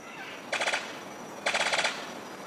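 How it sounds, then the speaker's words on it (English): Sicklebill bird of paradise courtship song: two loud bursts of rapid, machine-gun-like staccato notes about a second apart, each lasting under half a second, clear against a quiet forest background. "His courtship song sounds like a machine gun."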